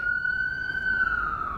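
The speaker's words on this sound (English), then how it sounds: "ambulance going by" An ambulance siren wails in a steady sustained tone that slowly dips in pitch as it passes, loud and continuous, heard from indoors in a weightlifting gym.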